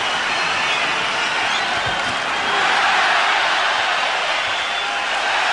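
A boxing arena crowd cheering and rising from their seats during a heavyweight bout between Wladimir Klitschko and Chris Byrd, a broad loud roar that swells steadily and lingers.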